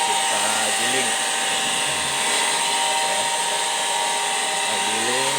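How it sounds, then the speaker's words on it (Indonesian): Motorized grinding machine milling soybeans for tofu in a village workshop, a loud steady whine and rumble running throughout, with voices talking faintly beneath it. "Setelah itu kita giling ya."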